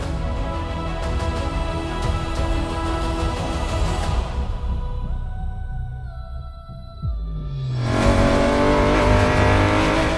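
Engine of a classic BMW rally car at the Tour Auto 2024, running after an overnight engine swap, loud close revving with rising and falling pitch, a brief drop to quieter idle, then a strong burst of acceleration.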